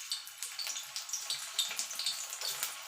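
Potatoes fry in hot mustard oil, giving a soft, continuous crackling sizzle with rapid spitting pops, close and fairly quiet, with no voices.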